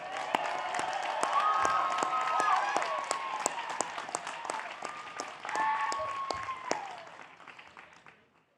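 An audience at a university graduation ceremony in Reno gives Dr. Chirozi and her team a loud round of applause, sustained dense clapping with some cheering and whistle-like voices, fading out toward the end.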